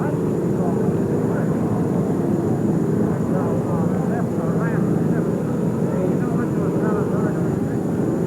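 Loud, continuous rotor and engine roar from an Army helicopter that has just landed close by, steady throughout, with voices faintly audible beneath the noise.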